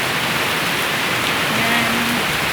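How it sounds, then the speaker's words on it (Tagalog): Heavy rain pours down steadily in a dense, even wash of noise close by, with no pauses across the short stretch. "we don't have rain like this, and we do need this rain really"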